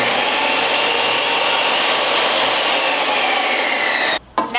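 Saw cutting through a piece of scrap wood clamped in a kerfmaker jig setup, a loud, continuous whining cut that runs steadily and then stops abruptly near the end.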